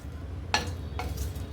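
Whole spices dry roast in a pan for channa masala powder, giving a soft rustling rattle and three quick scraping stirs against the pan over a low background hum.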